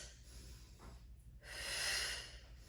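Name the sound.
heavy breathing during an abs workout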